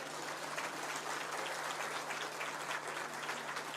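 Audience applause at the Africa Climate Summit in Nairobi, a continuous wash of many hands clapping at moderate distance, steady and even with a faint electrical hum beneath.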